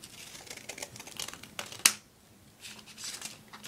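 A single crisp paper snip from scissors trimming an oversized paper ninja star for a folded paper gun, heard once mid-clip between soft rustling of paper handling.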